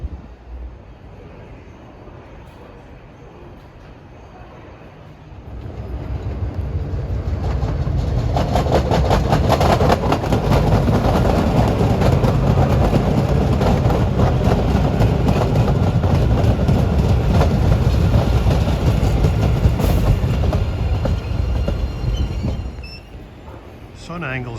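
A Boston MBTA Blue Line subway train rumbles in and passes close by with loud, sustained clattering and rolling noise, building after a quiet start and fading away near the end.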